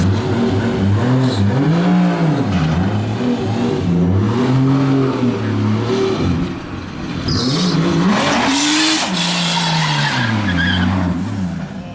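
A 2JZ-swapped Ford Mustang does a burnout while towing a trailer, its engine revving loudly and wavering up and down as the tires squeal and skid continuously, close and dominant with no voices.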